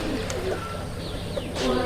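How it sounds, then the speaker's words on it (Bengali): A local Rajshahi Giribaj pigeon, a white male, gives soft close cooing calls over a faint background in a short snippet. "অনেক সুন্দর কবুতর"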